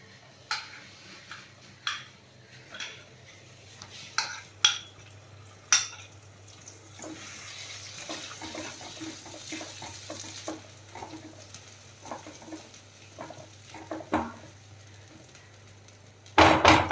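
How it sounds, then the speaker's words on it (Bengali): Peas and paneer cook in a pan over low heat with chilli flakes and green chilli. A spatula taps and scrapes in irregular strokes over a faint steady sizzle, close up, and nobody speaks. "অল্প আঁচে পাক দিচ্ছি"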